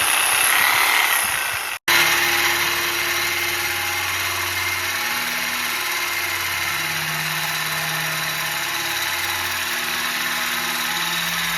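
Reciprocating saw cutting through the exhaust pipe of a Camaro SS with an LS3 engine, a steady buzzing drone that runs loud and near for the whole stretch after a brief cutoff early on.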